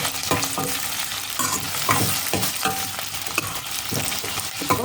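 Green chillies and onions with curry leaves sautéing in hot oil for an okra (vendaikkai) kuzhambu, a steady close sizzle with repeated scraping and stirring strokes of a spoon against the pan throughout.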